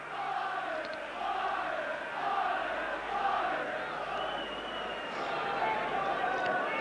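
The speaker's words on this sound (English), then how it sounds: "Certainly the crowd getting behind Doncaster in the early stages" A crowd at a 1986 rugby league cup tie between Doncaster and Leeds at Headingley roars steadily throughout, a broad distant din of cheering that holds without a break.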